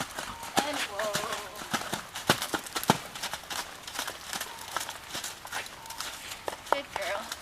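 A horse walks under a rider, its hooves clip-clopping in a steady uneven patter of sharp hits at close range, heard beneath a person talking throughout.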